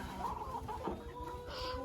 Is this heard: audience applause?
no